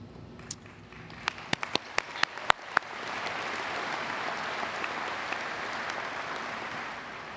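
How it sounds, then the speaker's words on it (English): Applause at a 2019 commencement ceremony, opening with a few separate sharp claps that build into sustained, dense clapping from a large crowd lasting several seconds, with no speech over it. "I also want to give a round of applause to everybody who's here in your support today"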